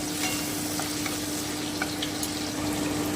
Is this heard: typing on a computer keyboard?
no